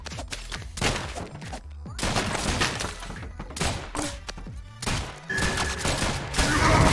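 Gunfire in the video game ROUNDS: dense, continuous bursts of rapid shots and impacts, loud and close, running through the whole stretch with no talk over it.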